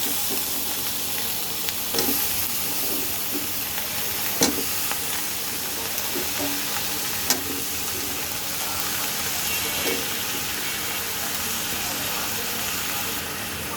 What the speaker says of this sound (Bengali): এখন আমি দিয়ে দেব কেটে রাখা আলু সিম আর বেগুন